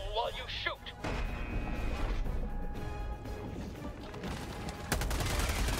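Dense, loud gunfire and explosions from the video game Helldivers 2, crashing in bursts with a sharp blast near the end and a voice speaking briefly at the start.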